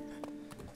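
Horse hooves clip-clopping in the video game Mount&Blade Fire and Sword: three separate muffled hoof thuds at a slow walking pace over a steady low in-game hum.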